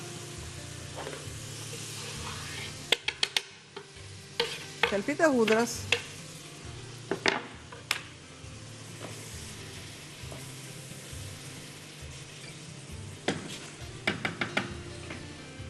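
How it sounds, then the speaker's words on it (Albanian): Onion, minced meat and spices frying in oil in a pan, stirred with a utensil, a steady soft sizzle with scrapes and clinks against the pan, recorded up close. "Qepa mishi grirë, erëzat dhe i zbusim, i trazojmë në tigan."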